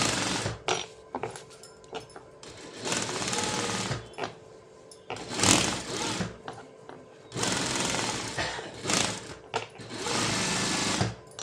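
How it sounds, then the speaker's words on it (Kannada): A sewing machine stitches along a blouse lining in several quick bursts of rapid mechanical whirring, separated by short pauses, close and clear. "ಇದಾದಮೇಲೆ ಈಗ ಲೈನಿಂಗ್ ಮೇಲೆ ಸ್ಟಿಚ್ ಹಾಕ್ತೀನಿ ನೋಡಿ ಫ್ರೆಂಡ್ಸ್."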